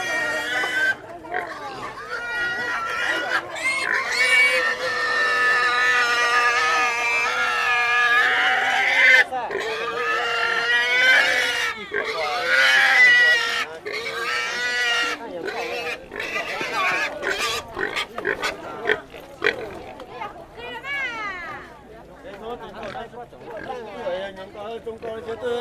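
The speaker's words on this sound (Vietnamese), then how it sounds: "Khu này tuần rất là nhiều lợn." Black pigs for sale at the Lùng Phình highland market squeal and grunt loudly and repeatedly, with long, piercing cries up close. Market chatter and people talking run underneath.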